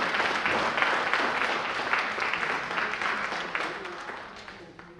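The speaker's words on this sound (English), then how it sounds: "Give her a round of applause again." An audience at a scholarship fundraising gala breaks into a round of applause, loud and dense at first, then gradually thinning and fading toward the end, with a few murmuring voices mixed in.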